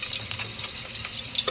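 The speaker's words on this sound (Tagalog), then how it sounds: "kumukulo na yung mantika" Chicken pieces fry in boiling cooking oil for a braised chicken dish, giving a steady, close sizzle with a scattering of sharper crackles and pops.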